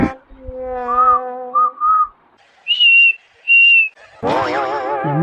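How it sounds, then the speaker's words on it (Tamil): A person whistles a rising, questioning phrase of several short, clear tones with pauses between them, loud and close, ending in a longer wavering note. "இவர் விசில்ல கேள்வி கேட்கிறாராட்டம்"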